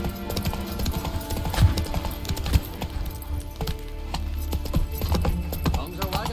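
Roach, a horse in a video game, gallops with a steady clip-clop of hooves under game music, with occasional louder hoof thuds; a voice speaks over the action.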